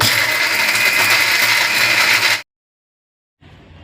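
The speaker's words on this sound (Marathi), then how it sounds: "आता मिक्सरच्या भांड्यामध्ये हे सगळं मिश्रण टाकून बारीक वाटून घ्यायचं आहे।" A mixer grinder whirs loudly and steadily while grinding onion, ginger and whole spices, runs for a couple of seconds, cuts off abruptly into silence, then starts again briefly.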